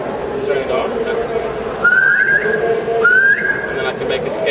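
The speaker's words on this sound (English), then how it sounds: "So here we can just stick a whistle on it." Whistle sound sample played on a Skoog accessible musical instrument, two short rising whistle tones heard over ongoing background chatter and talk.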